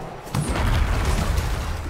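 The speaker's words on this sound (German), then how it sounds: "Ja, schön mal der Explosion ausweichen." Explosion in the Diablo IV game, a deep booming burst that starts abruptly and rumbles on at steady loudness for nearly two seconds, with no voice over it.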